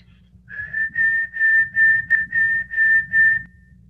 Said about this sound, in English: which is me whistling.